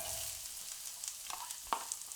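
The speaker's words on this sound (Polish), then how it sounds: "To chwilkę posmażymy." Chopped onion frying in hot oil in a pan, a steady close hiss with a few sharper crackles and light stirring scrapes, with no voices.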